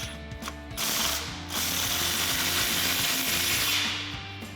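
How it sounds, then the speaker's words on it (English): A socket ratchet clicks steadily as a 15 mm exhaust bolt is tightened on a RAM 1500, its rapid pawl ticking running in a few bursts close up with no one talking. "You grab your 15 mil socket, come to your outlet, and we'll tighten this down."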